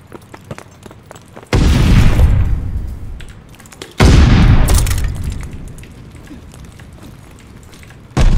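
Gunfire and explosions in a Call of Duty Vanguard ranked 4v4 match: two heavy, booming blasts a few seconds apart, each decaying into rumble, with scattered shots and clicks between and a third burst at the end.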